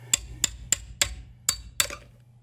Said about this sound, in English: So I try to just hammer it on enough to get a bite to get it off.